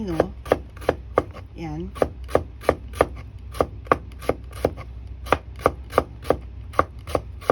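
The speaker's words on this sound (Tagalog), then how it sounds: "Basta slicein nyo lang siya, hiwain nyo lang siya ng pino." A knife finely slicing fresh cucumber for potato salad strikes a cutting board in a steady, quick rhythm of crisp chops, close and loud, with brief speech near the start.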